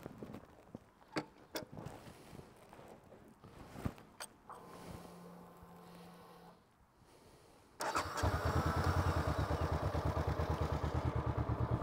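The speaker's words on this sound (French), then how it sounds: "On met en route le moteur." A motorcycle engine is cranked a few times amid faint clatter, then catches and settles into a steady, fairly loud idle close by on a riding practice area.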